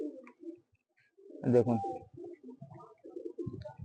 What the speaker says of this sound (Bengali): এই দেখুন পায়রা দুটো দেখুন